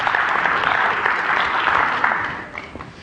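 Dense, sustained applause from an indoor audience honoring Hall of Famers at a group event, steady and full for most of the moment before thinning near the end.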